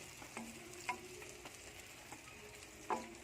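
Egg-stuffed eggplant frying in oil, a quiet soft sizzle under a series of light clicks and taps from a utensil at irregular intervals, with a couple of slightly louder knocks. No speech.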